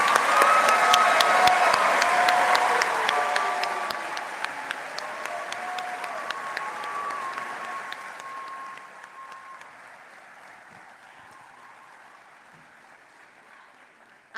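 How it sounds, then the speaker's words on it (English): Applause for graduates at a university graduation ceremony, a large crowd clapping loudly and steadily, then slowly thinning and fading toward the end. "Big round of applause for all the graduates."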